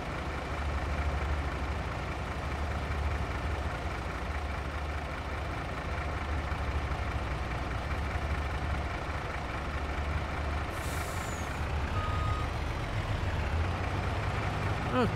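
Steady low rumble of an idling truck engine in Farming Simulator 22, continuous and fairly close, with a brief sharp hiss of an air brake near the end.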